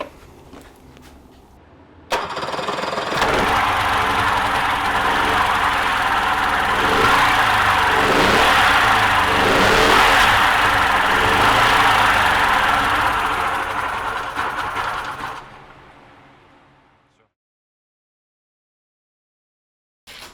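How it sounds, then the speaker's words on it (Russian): Tohatsu 50 outboard boat motor running with its gearbox removed; it starts abruptly, holds a loud, rough, steady idle with slight surging for about thirteen seconds, then cuts off and winds down to silence. "Запустили мотор без редуктора, чтобы хотя бы примерно понимать, как он работает"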